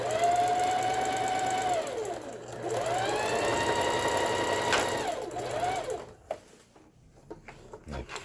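A Singer 4423 sewing machine runs a zigzag stitch with a steady, close mechanical whir that slows and rises again. It stops after about six seconds, leaving a few soft handling clicks.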